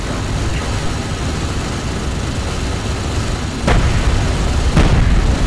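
A hostile strike craft explodes in Homeworld: Deserts of Kharak, two sharp booming blasts cutting through a steady rumbling battle bed of engines and distant fire, the second burst slightly louder.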